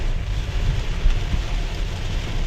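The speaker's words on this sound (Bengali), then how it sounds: "আজকে প্রচণ্ড বৃষ্টি হচ্ছে আমাদের এদিকে গাজীপুরে" Heavy rain pours down in Gazipur, a dense, even roar of falling water with a deep low rumble underneath, sustained throughout with no voices.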